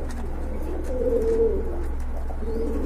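A pair of Rajgolla pigeons cooing softly in a low, rolling murmur over a steady hum, with no talk.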